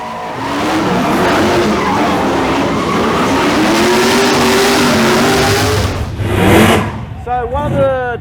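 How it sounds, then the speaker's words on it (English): Japanese import cars drifting and doing burnouts at the Summernats car festival, tyres squealing loudly over roaring engines for several seconds, followed by shorter chirping skids nearby. "a group of drifting Japanese imports, burning rubber and synchronised driving"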